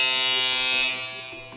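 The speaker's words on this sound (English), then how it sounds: "just the buzzer went off" A loud, sustained electronic buzzer sounds in a quiz game, a harsh steady tone that holds and then fades slightly toward the end, with no talk over it.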